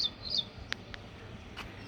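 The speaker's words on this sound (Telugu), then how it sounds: "వినిపిస్తుందా మీకు పక్షుల సౌండ్?" A few short, high bird chirps and calls sound at a distance over a quiet rooftop terrace garden, with a soft steady background.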